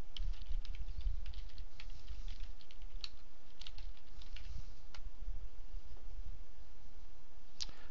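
Fingers type on a computer keyboard in a steady run of light, close clicks and taps, with a few sharper keystrokes standing out over a quiet background hum.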